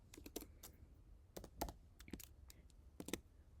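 Typing on a computer keyboard: quick irregular bursts of soft key clicks, close but quiet, with short pauses between runs of keystrokes and no voices.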